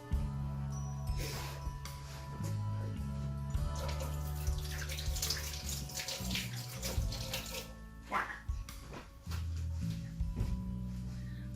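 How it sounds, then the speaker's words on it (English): Tap water runs steadily into a sink while hands are washed beneath it, the flow splashing and shifting continuously at close range with no talk. "I'm gonna wash my hands."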